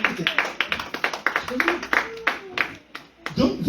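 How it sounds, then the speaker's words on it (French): A church congregation claps in quick, rhythmic unison, the close, bright claps mixed with voices calling out during a worship service. "Acclamons."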